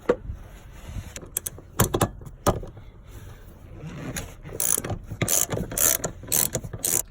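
Ratchet clicking as a bolt is tightened on an aftermarket PRP seat mount in a Jeep Wrangler JK, in several close bursts of rapid metallic clicks separated by short pauses, with no talking.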